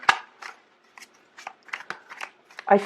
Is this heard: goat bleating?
no